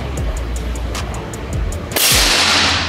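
A series of sharp, quiet pops repeating at a steady rhythm, followed by one louder, crisp shot with a hissy burst from a PCP air rifle, an FX Marauder.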